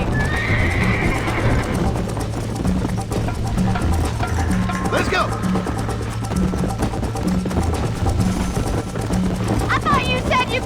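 Horses gallop hard in a Red Dead Redemption race, hooves pounding in a rapid continuous rhythm close up, with neighs and whinnies cutting through while voices shout over the clatter.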